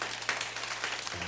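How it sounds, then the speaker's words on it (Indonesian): A church congregation at an Indonesian service claps together, a soft, steady patter of many hands over a low hum that cuts off near the end. "kasih tepuk tangan untuk Tuhan"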